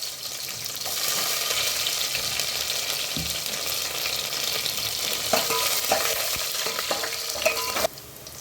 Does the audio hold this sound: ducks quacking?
no